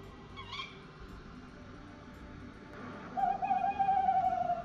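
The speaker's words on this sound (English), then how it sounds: "The tawny owl is probably the easiest recognised owl call. It does a kiwit, and the male does a woohoo." Tawny owl calls in a quiet outdoor night setting: a brief sharp kiwit-like note early on, then a longer wavering tonal call rising in loudness toward the end, moderately near with faint background hiss.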